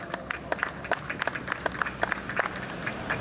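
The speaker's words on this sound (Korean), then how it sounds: "격려의 박수 다시 한번 부탁드리겠습니다" Applause at a Korean campaign rally: a small outdoor crowd claps fairly faintly, in a steady patter of scattered, distant claps.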